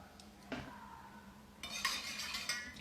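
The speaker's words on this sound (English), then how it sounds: "give that a little stir" A spoon stirs a bottled Manhattan of bourbon and sweet vermouth in a 2-to-1 ratio, with a few light clinks against glass and then a quicker run of close metallic tinkling, with no talking.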